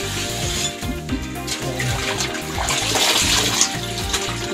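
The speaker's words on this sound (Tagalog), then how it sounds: "Ang itim ng kawali mo, sir. Yan, first banlaw." Water runs loudly from a tap over a blackened frying pan during a first rinse, a close, continuous splashing gush with changing gurgles as the pan moves under the stream.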